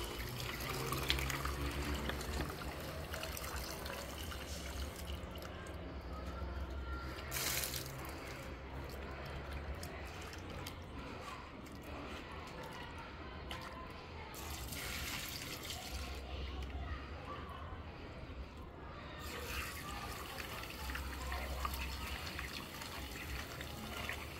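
Tap water runs steadily while saltfish is washed for a Jamaican backyard cooking meal, a loud continuous splashing gush with shifts in flow, without talk.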